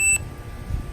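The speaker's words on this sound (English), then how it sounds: "You hear a chirp." A 2019 Slingshot's alarm system gives a single short electronic chirp as it arms, a bright beep over a low idle rumble that stops after a fraction of a second, leaving a faint background hum.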